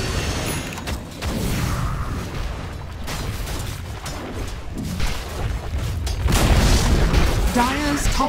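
Towers crumble in a Dota 2 match, heavy booming collapse sounds and rumbling impacts running continuously under an announcer-style voice and game effects.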